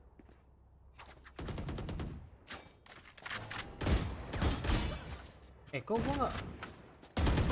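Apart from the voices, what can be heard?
gunfire in Valorant video game deathmatch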